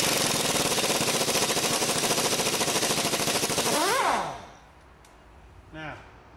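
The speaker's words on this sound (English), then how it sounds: "Air gun." Pneumatic impact wrench rattling on Toyota Corolla bolts during clutch work, a loud continuous hammering burst for about four seconds that stops abruptly, followed by quiet garage sounds.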